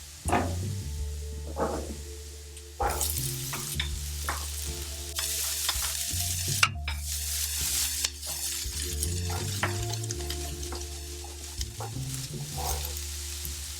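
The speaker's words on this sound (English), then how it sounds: "Now we brown the potatoes a bit, we're going to add the onions." Potatoes and onions sizzle and fry steadily in a pan while a utensil stirs and scrapes them in repeated bursts, with occasional clinks of cookware, close up and without speech.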